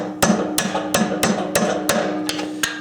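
Steady hammer blows split a wood bowl blank along the grain on a locked lathe, about eight sharp, evenly spaced strikes, close and loud, with no talking.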